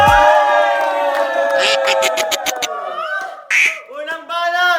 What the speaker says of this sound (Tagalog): Mag-ingay para kay Luis!